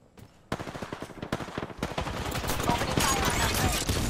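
Rapid automatic gunfire in the battle-royale shooter Apex Legends, dense bursts of close, loud shots rattling continuously after a brief quiet start, with faint voices underneath.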